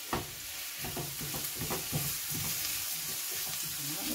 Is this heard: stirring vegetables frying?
yes